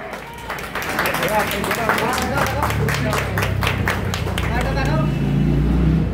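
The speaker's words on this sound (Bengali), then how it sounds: "অশোকদার জন্য একটা জোরে হাততালি।" Audience applause for Ashokda at an iron lifting competition on an outdoor open-air stage in Kolkata, a steady wash of clapping from a crowd with babble and background noise, sustained throughout.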